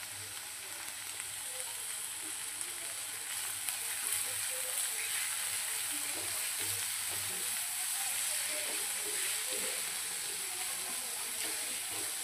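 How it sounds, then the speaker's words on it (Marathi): Shredded cabbage and soya chunks fry in a hot pan, giving a steady, close hiss of sizzling with occasional stirring scrapes and clinks, no voices over it. "2 ते 3 मिनटं याला छान आपल्याला असं फ्राय करून घ्यायचं आहे"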